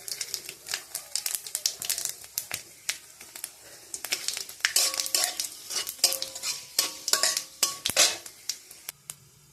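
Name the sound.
bay leaf, five-spice, chillies, cinnamon, cardamom, cloves frying in oil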